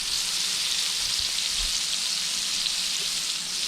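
Venison tenderloin sizzles steadily in a hot uncovered pan, a dense continuous crackle of frying with no talk over it.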